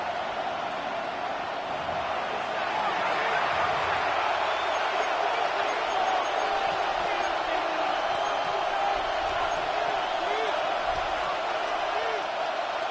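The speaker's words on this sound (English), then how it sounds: "This crowd into it now as we get to 3rd down" Stadium crowd in a Panthers vs Vikings football video game: a steady, loud roar of cheering fans building on third down, continuous throughout and heard under play-by-play commentary.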